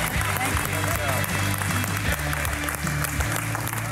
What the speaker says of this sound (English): Yeah, we got a lot of applause.